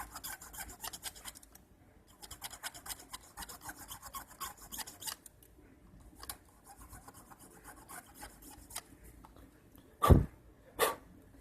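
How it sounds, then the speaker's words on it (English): A hobby knife scrapes at the body of a model of Dale Earnhardt Sr's 1992 Lumina in close, faint bursts of rasping strokes, with two louder knocks near the end. "Just a hobby knife."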